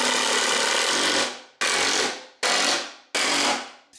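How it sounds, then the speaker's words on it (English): Long wood screws, 5 1/2 inches, driven into a 4x4 with a power driver while building an engine run stand, four loud bursts of whirring, each fading out before the next starts. "We'll go ahead and drive in our last 4 5 1/2 inch wood screws"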